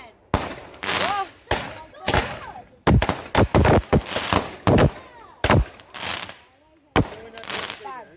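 Roman candle fireworks on Bonfire Night fire a rapid series of sharp, loud bangs outdoors, about a dozen close cracks in quick irregular succession, with people talking and exclaiming between the shots.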